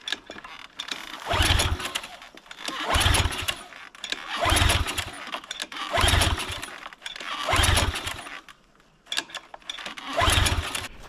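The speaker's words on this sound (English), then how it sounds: "the pressure washer has just got fire to it. It's just not getting any gas." A small gasoline engine on a pressure washer, fed old tarnished gas, is pull-started repeatedly: about seven separate rope-pull bursts of cranking and sputtering, each briefly catching and then dying, with short pauses between attempts.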